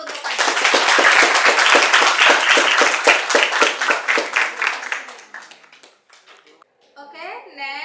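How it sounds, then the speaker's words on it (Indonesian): An audience applauds a presenter named Fajar during a lecture: dense, loud rhythmic clapping for about five seconds that thins out and fades, followed by a voice speaking near the end. "kita beri aplaus dulu untuk Fajar"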